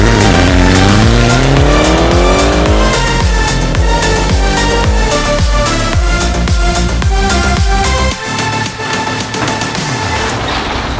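A Mitsubishi Lancer Evo X pulls away, its engine loud and close, revving up through rising gear pulls with each shift dropping the pitch before climbing again, then fading somewhat near the end.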